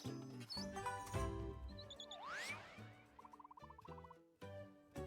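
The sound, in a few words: glitch bird calling in The Plucky Squire video game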